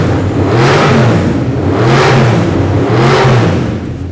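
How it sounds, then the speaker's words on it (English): A Formula Thunder 5000 race car with a Coyote Ford Mustang V8 revs loudly and close, three rising-and-falling engine surges in steady succession with no talk. "The engine that's using a Coyote Ford Mustang engine"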